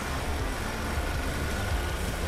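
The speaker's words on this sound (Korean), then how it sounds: "엔진 소리 일정합니다" A Chevrolet Malibu 1.5 turbo engine idles steadily in the open engine bay, a close, even low hum and rumble with no voices over it.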